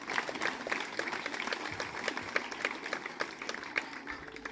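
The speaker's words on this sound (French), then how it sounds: "je crois qu'on peut les applaudir très très fort" An audience claps for volunteers at a magic show in Nice, a lively mix of many overlapping claps in a steady patter, fairly close, with faint crowd murmur underneath.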